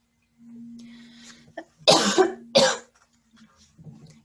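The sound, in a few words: cough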